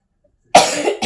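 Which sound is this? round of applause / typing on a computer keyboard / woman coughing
woman coughing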